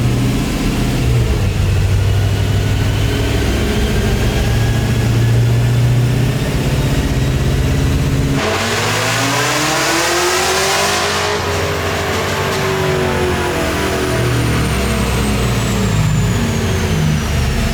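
A supercharged LS3 V8 in a 1962 Chevy C10 truck revs hard toward 6,200 RPM with a supercharger whine, climbing in pitch, then drops and winds back down and up again, loud and close.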